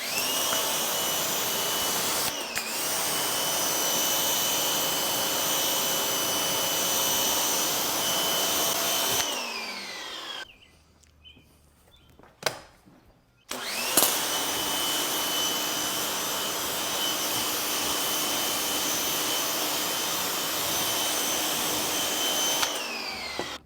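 A pressure washer's loud, continuous high-pitched motor whine with a hissing spray washes a car, stops briefly with clunks in between, then starts up again.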